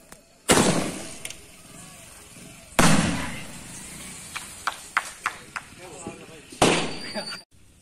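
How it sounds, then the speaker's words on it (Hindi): Sky shot firecrackers set off outdoors during Diwali testing, three loud whooshing launches each trailing off, with sharp pops and crackles scattered between them. "अब हम टेस्ट करने वाले स्काई शॉट को"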